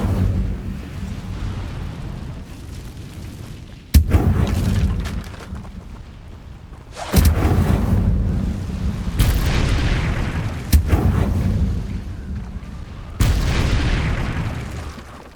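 Incendio fire spells blasting in Hogwarts Legacy, heard as four loud sudden bursts, each followed by a roaring, crackling fiery wash that lingers for a couple of seconds over a low rumbling background.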